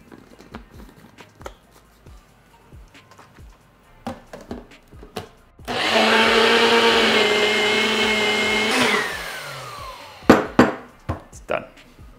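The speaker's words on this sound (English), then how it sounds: "So let's blend this up." A blender pureeing thawed peas: about three seconds of loud, steady motor whir that starts abruptly and winds down, with scattered clunks and knocks before and after.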